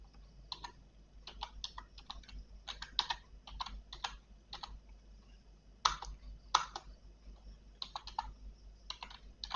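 Typing a name on a computer keyboard, a quiet run of separate key clicks in irregular bursts with short pauses, close by over a low steady hum.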